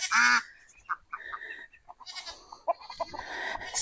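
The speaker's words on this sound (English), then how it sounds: "Look at that goat coming out." A goat lets out a loud, wavering bleat up close, followed by scattered softer animal calls and farmyard noises.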